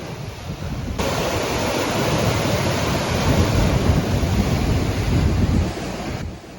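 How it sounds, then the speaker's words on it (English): Giant sea waves crash against rocks under an overcast sky with strong wind, a loud continuous roar of surf and wind buffeting the microphone that holds steady before easing off near the end. "Every few seconds another giant wave crashes against rocks, putting on an incredible show."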